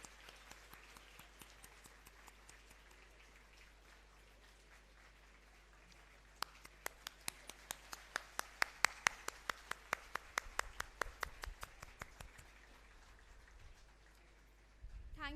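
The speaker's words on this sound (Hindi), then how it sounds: "तालियां बजती रहनी चाहिए" Audience at a university undergraduate student induction programme claps in a burst of sharp, scattered hand claps that builds and fades over several seconds, moderately loud in a large hall.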